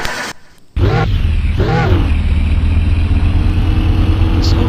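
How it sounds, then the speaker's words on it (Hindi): A car's engine in the video game Car For Sale Simulator starts and revs twice with a rising whine, then settles into a steady, loud idle that drones on close by. "साउंड बहुत है गाड़ी का"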